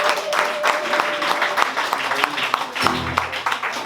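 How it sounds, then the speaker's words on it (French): A concert audience claps loudly and continuously throughout, with cheers mixed in, while a voice talks over the applause near the end. "On l'applaudit encore."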